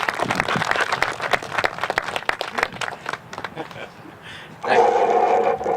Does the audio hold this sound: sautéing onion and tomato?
no